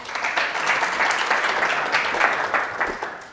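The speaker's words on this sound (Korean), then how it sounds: "역시나 박수 부탁드리도록 하겠습니다" Steady, dense applause from a seminar audience after a speaker from NH NongHyup Bank is introduced at a policy talk on regional polarization, loud and continuous throughout with no break.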